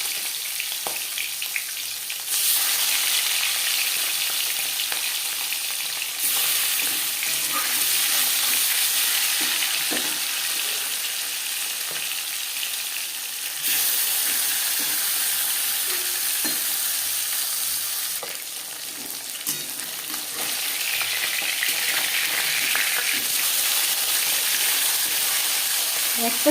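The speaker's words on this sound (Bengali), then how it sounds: "চামচ রিফাইন্ড অয়েল গরম করে নেওয়ার পর দিয়ে দেব মাছ" Fish sizzles steadily in hot refined oil in a pan, a continuous loud crackling hiss with brief quieter gaps between bursts, no voice over it.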